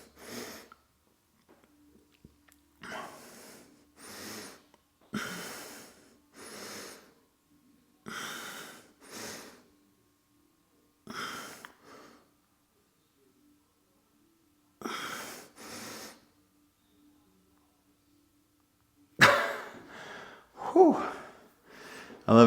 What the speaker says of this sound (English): why is bro breathing so hard?